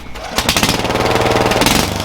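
A modified riding lawnmower engine revs loud and close, a rapid pulsing mechanical rattle like a Harley that bursts in suddenly and holds steady for about a second and a half.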